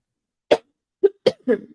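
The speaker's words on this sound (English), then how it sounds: "I got a little coffee cough" Dry coughs from a person with a little coffee cough, four short bursts over under two seconds, close to the mic and with no talk.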